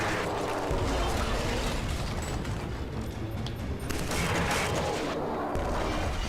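Continuous gunfire in the shooter game Killzone 3, a dense rattling barrage of shots with mechanical clatter running loudly throughout without pause.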